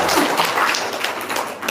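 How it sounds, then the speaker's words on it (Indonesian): An audience claps throughout at a religious talk, a dense steady patter of many hands at moderate loudness with no speech over it. "Tepuk tangan dong"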